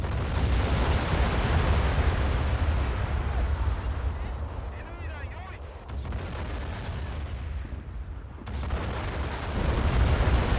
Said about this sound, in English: Completely shelling the area.